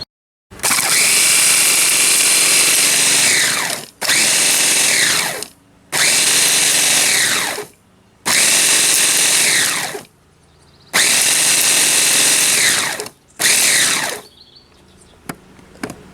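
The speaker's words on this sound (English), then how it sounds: "right now my first step is to grind up these petals." An electric grinder grinds dried rose petals in five loud, close bursts of high whirring, each a few seconds long and separated by short pauses, ending with a faint rattle.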